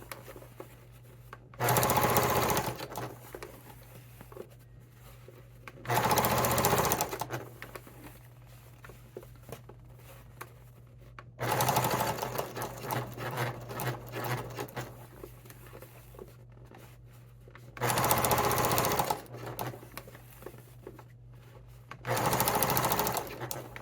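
A sewing machine stitches a seam on a velvet Yuletide stocking in five short, loud bursts of rapid whirring, separated by quieter pauses with faint handling noise.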